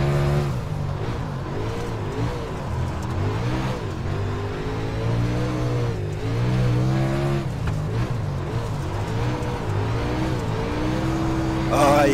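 Super late model race cars lap Lanier in the iRacing simulator, engines roaring and rising and falling in pitch as they rev through gears, loud and continuous with no voices.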